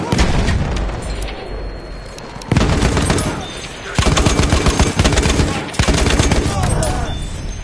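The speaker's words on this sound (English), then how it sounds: "Machine gun! One of theirs!" Enemy machine gun fire in a combat video game, loud rapid bursts in several long volleys separated by brief pauses, with a voice shouting over the din.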